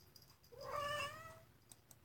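A cat lets out a single drawn-out meow, faint and close, in a quiet room.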